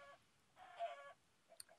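Chickens cluck in a video game's Hunger Games match, a short, quiet burst of clucking in the middle with a faint chirp near the end.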